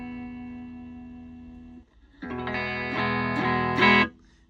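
An electric guitar played through a Donner Arena 2000 multi-effects pedal set to a Fender Deluxe amp model: a sustained note fades away, then loud, bright strummed chords ring out with accents, with no talking.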